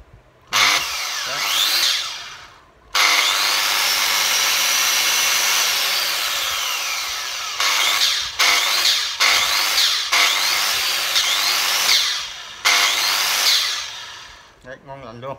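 A Japanese domestic 100V electric saw cuts lengthwise through wood in loud, close bursts, the motor whining up and bogging into the cut with short pauses between passes.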